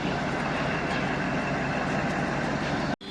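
A steady, loud rumble of a train rolling along the rails, continuous and close, cut off by a brief silence near the end.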